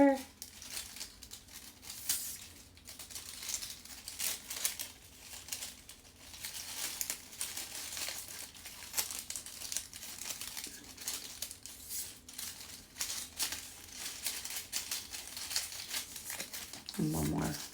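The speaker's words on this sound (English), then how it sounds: "And we're folding the weaving ribbon back over" Weaving ribbon is folded and plaited into a prince braid for a homecoming mum, making steady close crinkling and rustling with frequent soft crackles throughout, as a person talks over it.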